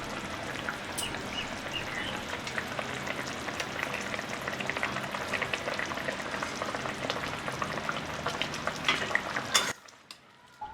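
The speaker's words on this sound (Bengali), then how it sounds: "এবার আমি এর মধ্যে ভেজে রাখা পটলগুলো দিয়ে দেব।" Fried pointed gourd pieces go into a simmering potato curry and get stirred, giving a steady close sizzle and bubbling with scattered clinks and scrapes, cutting off abruptly to near silence at the end.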